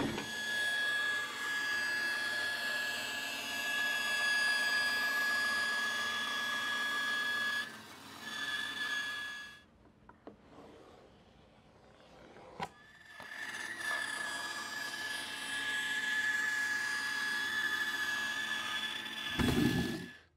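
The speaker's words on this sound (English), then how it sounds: "Let's go cut that on the bandsaw." Bandsaw cutting a piece of cherry wood, a close, steady high whine and buzz of the blade through the board, dropping away briefly midway before the cut resumes and carries on to the end.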